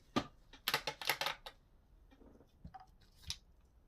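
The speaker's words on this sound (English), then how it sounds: "I'm just popping these back up onto the shelf to give me a bit more room to work" Items being set back up onto a shelf during a nail-product haul, heard as a cluster of close, sharp clattering knocks and scrapes followed by quieter scattered taps and rustles, with no speech.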